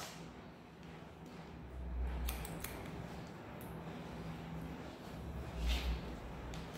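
Scissors cut straight hair at the nape, the strands held at a 90-degree angle; two or three soft, quiet snips sound close by in an otherwise hushed room.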